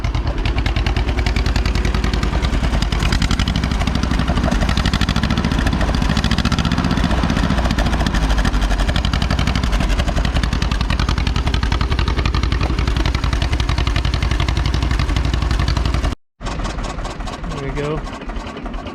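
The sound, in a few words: 1949 John Deere MC crawler engine running, PTO spinning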